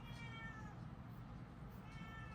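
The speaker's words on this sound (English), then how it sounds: "That's my boy cat in the back." A male cat whines with a drawn-out meow in the background, faint and distant, rising and falling over a low steady room hum.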